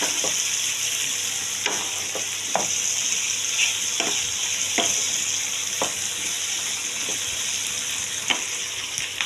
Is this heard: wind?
no